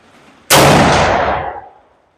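A single loud rifle shot from a 400 Legend firing Winchester 215gr Power Point ammunition cracks at close range outdoors, then decays over about a second into silence.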